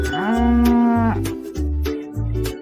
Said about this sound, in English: The cow says